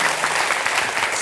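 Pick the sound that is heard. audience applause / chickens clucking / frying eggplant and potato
audience applause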